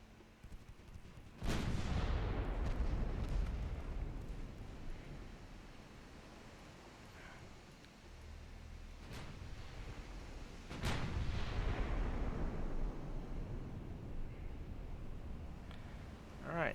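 Naval guns fire during a warship battle in the Ultimate Admiral Dreadnoughts video game. Three heavy booms land several seconds apart, each trailing a long rumbling decay over a steady wash of sea and wind.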